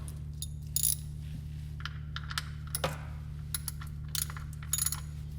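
An oil drain plug on a Ford Fiesta being tightened back down: faint, scattered metallic clicks and quick ratcheting ticks over a steady low hum, with no talking.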